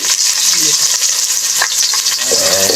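Loud, continuous sizzling and crackling of onions frying in hot oil, with occasional stirring scrapes in the pan.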